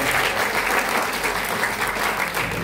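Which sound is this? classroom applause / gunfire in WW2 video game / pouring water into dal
classroom applause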